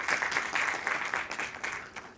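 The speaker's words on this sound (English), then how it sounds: "Can we give a round of applause to our panelists?" Audience applauding panelists at the close of a design-for-social-impact panel discussion in Egypt, a steady wash of clapping that holds at an even level for a couple of seconds before thinning slightly.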